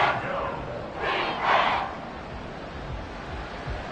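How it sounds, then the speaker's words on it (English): Roaring crowd at Arrowhead Stadium during a Bills football game, a broad sustained wash of cheering that swells twice in loud bursts early on, then settles into a steady distant rumble. "The Arrowhead crowd in full roar"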